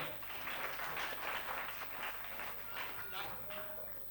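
Studio audience applause on a game show, a burst of brisk clapping that swells and fades in quick waves over a few seconds, moderately close, with a voice speaking over it.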